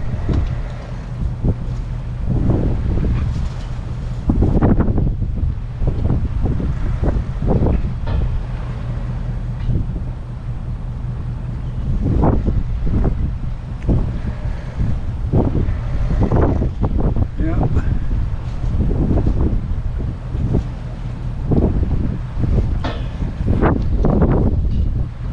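Strong wind gusts buffet the microphone on the Maine coast, a continuous loud roar with repeated bursts and rumbles, and faint voices underneath.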